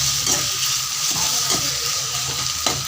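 Onion and tomato sauté in a hot pan for a village-style potato stir-fry, a steady close sizzle with soft stirring scrapes and taps recurring every half second or so, no talking.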